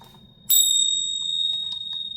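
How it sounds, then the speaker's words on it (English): A small handheld bell is struck once, giving a sudden bright ring that sustains and slowly decays, close and alone with a faint touch of noise. "I'm going to ring the bell 3 times this morning."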